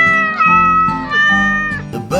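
A cat meows loudly and close by in a run of drawn-out, wavering cries, two or three meows running together with no talk over them.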